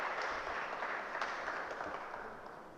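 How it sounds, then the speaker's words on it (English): An audience applauds steadily at an evening session on AI, a dense wash of clapping that holds at an even level and fades slightly toward the end, with no voices over it. "Big round of applause for Saloni"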